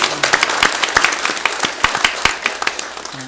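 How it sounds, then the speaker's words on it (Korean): A church congregation at a Christmas Sunday service applauds the choir with close, crisp clapping, many sharp hand claps in a lively, uneven patter that stays loud throughout. "우리 찬양대 박수 한번 더 쳐주세요."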